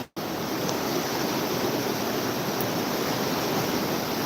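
Floodwater of the White River near Buckley rushes in a loud, steady broadband roar, close and continuous, with no voices over it.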